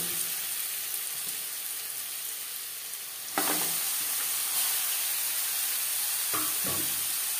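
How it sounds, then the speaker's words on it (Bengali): Papaya pieces drop into hot oil tempered with bay leaves and whole cumin, a steady sizzle that swells into a louder hiss, with light stirring scrapes near the end. "পনেরো 20 সেকেন্ড ভেজে নেওয়ার পর দিয়ে দেবো পেঁপে।"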